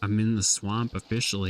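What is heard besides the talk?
No everyday noise stands out behind the speech.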